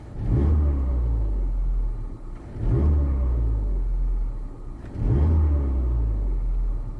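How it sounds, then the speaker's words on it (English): A car engine is revved three times in a steady rhythm during heel-and-toe practice, each rev a deep, loud rumble that rises, holds and eases off, with no talking over it. "clutch down, and then kind of raise the RPM at a set amount, say like, I don't know, 500 RPM, and keep it steady and consistent"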